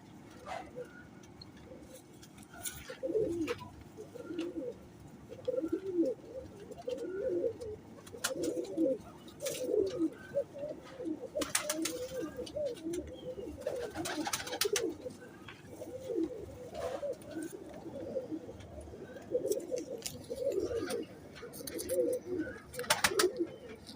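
Low, burbling coos from a group of Lal Pari pigeons nearby, rising and falling in steady repeated phrases, with a few light chirps and scuffs mixed in.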